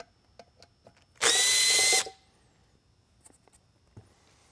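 A power driver whirs in one loud, steady burst of under a second while removing screws from a Whelen L41 LED beacon, with faint clicks and handling noises before and after.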